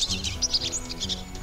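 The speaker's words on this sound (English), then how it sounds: "Whatever that bird is going off" A bird in the WolfQuest video game chirps in quick, bright, repeated tweets over a low steady game background, fairly loud and close.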